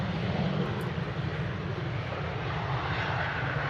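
Emirates A380 jet engines at Manchester Airport, a steady, loud broadband roar held without a break as the airliner departs for Dubai, with no voices over it.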